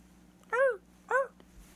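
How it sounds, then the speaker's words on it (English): Two short yelping barks from a single dog, spaced about half a second apart, fairly clear against a quiet background with a faint low hum. "off in the distance, a dog barked."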